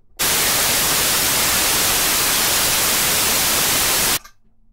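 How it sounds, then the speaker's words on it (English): A steady blast of white noise from an Empress Effects Zoia noise module, loud and unchanging for about four seconds before cutting off abruptly. "very first sound module I've got here is a noise."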